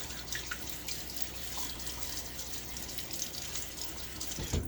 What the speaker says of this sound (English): let me throw a little bit of water on my face